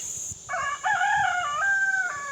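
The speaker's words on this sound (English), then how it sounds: "And cue the rooster." A rooster crows once, a long bright harmonic call lasting about two seconds after a brief high tone, fairly close and clear.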